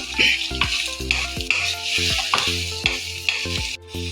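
Carrots sautéing in a hot pan for a Kerala-style mango and carrot pickle, with a steady sizzle and repeated, evenly spaced scrapes and clinks of a spoon stirring, close and loud, with no talking.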